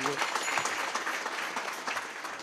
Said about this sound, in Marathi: टाळी वाजव सगळ्यांनी.